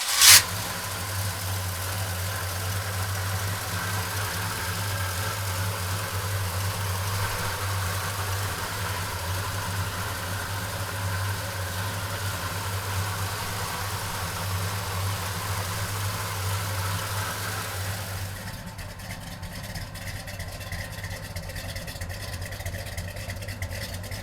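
A 1969 Pontiac GTO engine cranks over with a sharp burst, then settles into a steady, rumbling idle that runs for roughly eighteen seconds before easing to a quieter tone.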